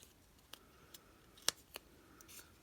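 Scissors snipping soft, flexible material, a handful of sharp, quiet clicks spaced irregularly over a near-silent background.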